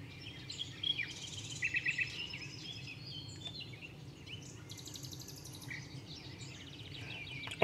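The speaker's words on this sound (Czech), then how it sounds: "Slavík." A nightingale sings at night beside the Elbe river, bursts of trills and chirps rising over a low, steady background hum, fairly faint and distant.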